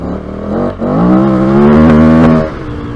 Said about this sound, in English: Cheeky bit of rev limiter.